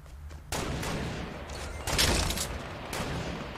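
Bursts of rapid gunfire in Fortnite, loud and dense, with a few sharper blasts standing out over a steady roar of game noise.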